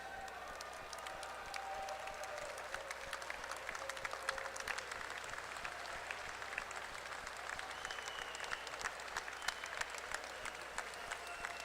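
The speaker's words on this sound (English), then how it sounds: "round of applause." An audience claps in long, steady applause, a dense patter of many hands at moderate distance, continuing evenly with a faint tonal hum beneath.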